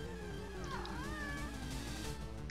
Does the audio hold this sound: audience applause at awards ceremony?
no